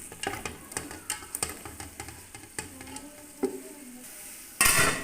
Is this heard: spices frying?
yes